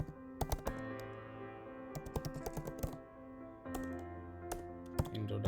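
Someone types a file name on a computer keyboard in quick, uneven clusters of soft, close key taps over a low steady electronic hum, with short pauses between bursts.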